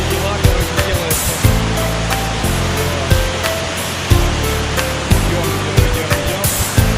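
Waterfall in Jamaica, with a steady roar of falling water filling the scene up close and loud. Voices and handling noises come and go over the rush.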